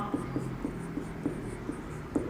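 A formula written by hand on paper or a board, a run of soft, regular tapping and scratching strokes close by, quiet and steady, with faint background hum.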